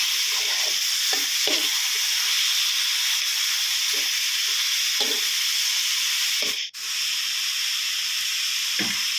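Pork stir-frying in a hot pan with Maggi sauce, a loud continuous sizzle and hiss broken by repeated scraping strokes of the spatula, close and without talk.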